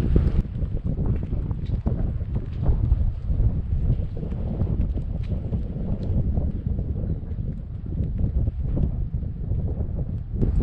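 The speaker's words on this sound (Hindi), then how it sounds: "तेज़ हवा चल रही है" Strong, cold wind at Prospect Point, Ziarat, Balochistan roars steadily and buffets the microphone in continuous rough gusts for the whole stretch, with no one talking.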